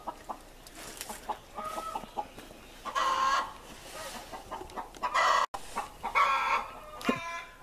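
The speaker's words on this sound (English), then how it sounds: "So with the chickens squawking in the background" Backyard chickens cluck and squawk in repeated bursts, with an occasional rooster-like crow, fairly close and lively, with no talk over them.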